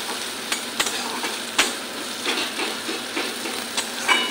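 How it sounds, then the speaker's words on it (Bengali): Onion and garlic sizzling in hot oil in a pan, a steady close frying hiss broken by sharp spatters and scraping stirs, with no voices over it. "দেখো আমার পেঁয়াজ আর রসুনটা ভাজা হয়ে গেছে"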